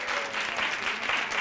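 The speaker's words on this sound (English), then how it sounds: "Hartford High, give them a round of applause." An audience at a school parent appreciation ceremony claps in a dense, steady burst of applause, close and fairly loud.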